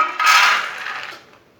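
Soaked black chickpeas tumble into a pot in one short, clattering rattle that rises quickly, then thins out and fades within about a second, with no talking.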